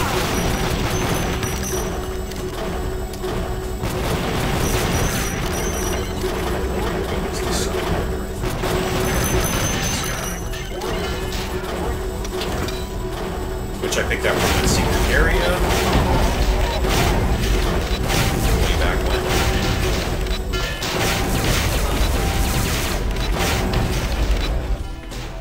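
Rapid gunfire and booming explosions fill a 2455 CE Japan level of the video game Daikatana, a continuous loud barrage of shots, crashes and mechanical clatter throughout.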